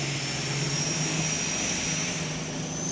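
A 1988 Peterbilt diesel drag truck rated at 4,000 horsepower roars at a drag strip, a loud, steady, dense engine blast with a high whine held for the whole stretch, no voices.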